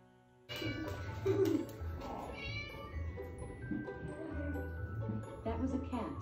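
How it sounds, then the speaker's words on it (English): A cat meows faintly at a distance in a home where dogs are being filmed, while a person talks over it. "That was a cat."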